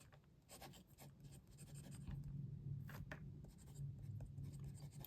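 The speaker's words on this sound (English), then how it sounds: "I'm just going to do a little writing, and I'll do the aluminium next to each other" A Muji aluminium fountain pen with an extra fine steel nib writing black ink on paper, a soft continuous scratchy rasp of nib strokes, close and quiet, with short pauses between words.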